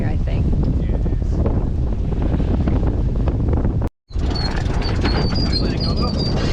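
Strong wind roars against the microphone on a sailboat in a steady, loud rush, broken by a brief dropout, with faint water sounds beneath.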